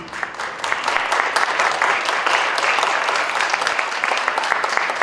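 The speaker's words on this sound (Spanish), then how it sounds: "Yo les invito a darles un aplauso a esta mujer donde esté." An audience at a lecture breaks into steady applause, many hands clapping together at close range for several seconds without pause.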